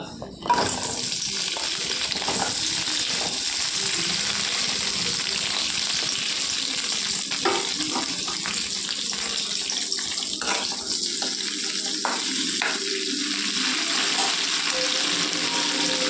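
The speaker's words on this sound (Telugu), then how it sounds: "నూనె వేడెక్కిందండి, పచ్చిమిరపకాయలు వేసుకుందాం" Green chillies sizzle in heated oil as a tempering for cauliflower pachadi, a steady close hiss with brief crackles and clinks of stirring throughout, no voices.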